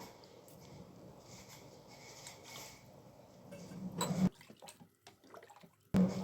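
Water is poured into a pressure cooker holding millet for pongal, giving a faint trickle and then two short, louder splashing pours near the end.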